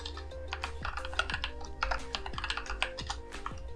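Steady rapid typing of code on a computer keyboard, dense clicky keystrokes close up and alone, with a low background hum underneath.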